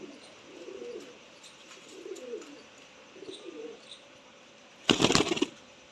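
Golden teddy pigeons coo in soft, repeated low bursts, followed by a sudden loud flurry of wing flapping near the end, with no voices.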